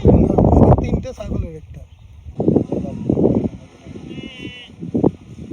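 Goats bleating on a river char, several drawn-out wavering bleats close by, some loud and some softer, with a few gaps of quieter background between calls.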